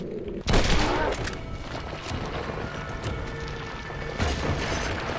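Springfield rifle shots ring out in the video game Red Dead Redemption: Undead Nightmare, a loud blast near the start and another a few seconds later, over a busy rumbling game background.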